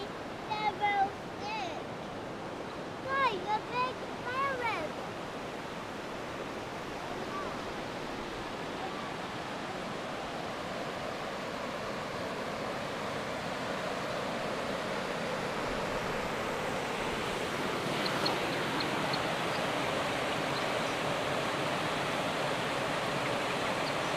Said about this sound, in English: So this is the Skokomish, whatever, river. And there's some nice deep pools at this point.